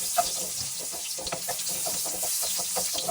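Garlic and ginger fry in a pan with a steady close sizzle, broken up by quick scraping stirs from a utensil, over a short stretch with no talking.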